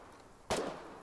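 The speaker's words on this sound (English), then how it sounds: "I'm hearing a lot of gunshots" A single sharp gunshot cracks out once during infantry combat in the video game Foxhole, a short, punchy burst over an otherwise quiet background.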